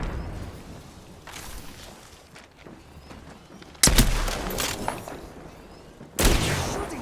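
Video game gunfire in VALORANT, bursts of shots hitting suddenly and loudly after quieter background noise, with two sharp onsets about two seconds apart.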